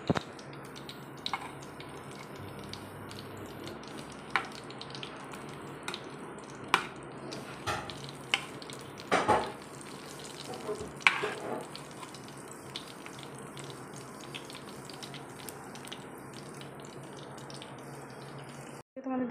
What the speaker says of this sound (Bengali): মাছ ভাজা করছি ইন্ডাকশান